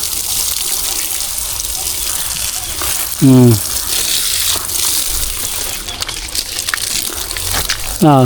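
Water gushes from a hose onto dwarf coconut trees on a farm in hot summer weather. The spray runs steadily throughout, with a couple of brief louder bursts and a voice speaking faintly underneath.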